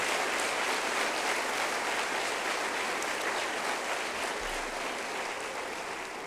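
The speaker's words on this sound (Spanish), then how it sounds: "Dale otro aplauso al Señor" A church congregation claps steadily together in a sustained burst of applause, dense and even throughout, filling the hall with no voices standing out.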